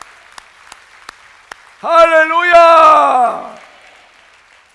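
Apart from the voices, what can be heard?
congregation applauding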